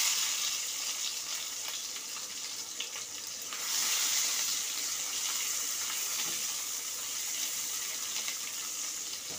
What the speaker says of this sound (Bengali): পেঁয়াজটাকে আমি ভালোভাবে ভেজে দিচ্ছি লাল করে।